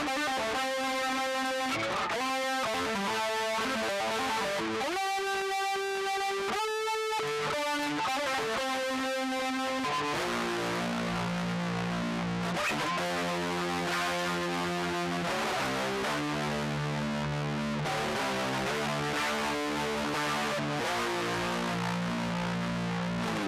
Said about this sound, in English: Same lick, just with distortion.